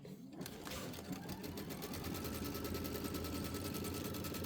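A sewing machine stitches quilt pieces steadily with a fast, even mechanical whir and rapid clatter, close up and continuous after a brief start.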